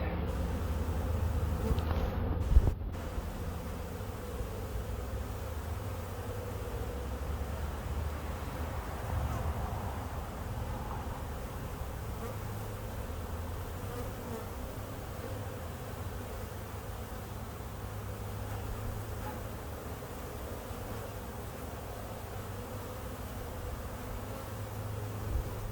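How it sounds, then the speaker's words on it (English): A faint, steady hum of many honey bees buzzing nearby as they gather onto a hive box, continuous throughout with a brief clatter early on and no talking. "So the majority of the bees are in the box"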